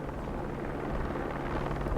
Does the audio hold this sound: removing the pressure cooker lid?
no